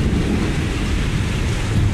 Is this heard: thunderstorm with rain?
yes